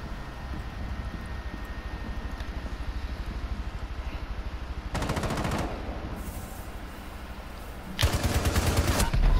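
Automatic gunfire rattles in Rainbow Six Siege, two loud rapid bursts of shots standing out over a steady droning game background, the second burst close and punchy.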